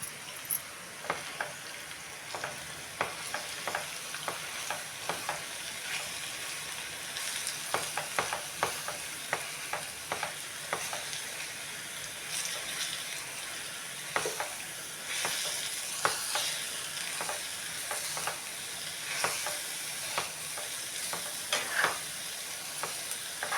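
Carrot fries in a spiced tempering, sizzling steadily and fairly quietly while a utensil stirs it with repeated short scrapes and taps throughout.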